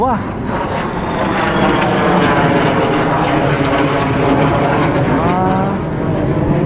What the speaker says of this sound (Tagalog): uy, fighter jet yun